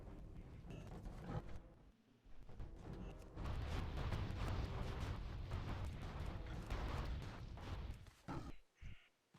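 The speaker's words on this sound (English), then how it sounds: "I've got mortars set up on the ridge to the east to hold the Naga back. Go forth, recruit. Mortar them." Mortar explosions in the World of Warcraft video game, heard as a low, rumbling barrage of booms that swells and holds for several seconds before fading into a few scattered thuds, fairly quiet overall.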